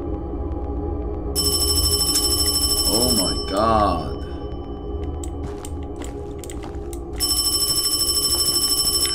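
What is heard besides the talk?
telephone ringing in the horror video game Paranormal HK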